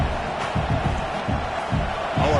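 A home stadium crowd at a football game roars in a dense, continuous wash of cheering and shouting, loud and sustained throughout with rhythmic swells, likely mixed with a commentator's voice.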